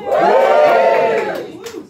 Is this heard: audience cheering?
yes